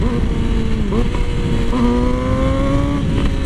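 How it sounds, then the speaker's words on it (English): Yamaha R6 sport motorcycle revving up in first gear, engine pitch climbing smoothly, dipping briefly and rising again, loud and close with steady wind-like background noise. "So first gear, just giving us some gas."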